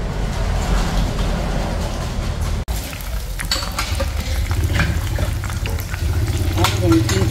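Vietnamese spring rolls (chả giò) frying in hot oil during a family meal make a steady, loud sizzle throughout, with a brief dropout partway, as people talk nearby.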